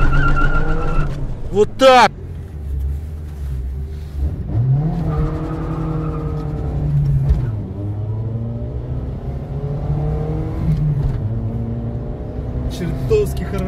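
A ZAZ Lanos car revs hard with a brief tire skid near the start, then its engine drones steadily underneath near, loud, excited talking throughout.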